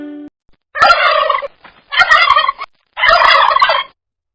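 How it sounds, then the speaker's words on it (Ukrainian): Three loud bursts of turkey gobbling, each a rapid warbling rattle about half a second to a second long, separated by brief pauses, close and clear. "Так, а це індик. І він белькоче."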